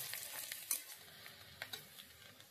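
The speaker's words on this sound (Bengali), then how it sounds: "এবার আরো মিনিট খানেক ভেজে নেব।" Onions frying in oil with dried red chillies and bay leaves for a Bengali masoor dal khichuri, giving a quiet, steady sizzle with a few soft stirring scrapes and light clicks.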